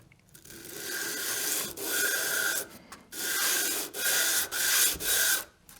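A Jorgensen 102 low angle block plane's blade is rubbed back and forth on 240-grit sandpaper laid over granite, giving repeated close, rasping scrapes in steady strokes separated by brief pauses.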